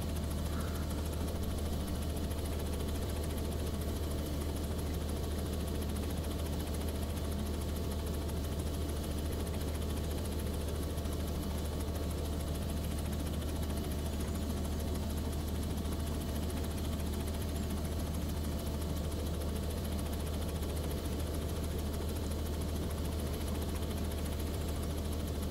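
Steady, unbroken engine and rotor drone of a Vskylabs R66 helicopter in the X-Plane flight simulator, a constant low hum with hiss on top that holds at an even, moderate level throughout.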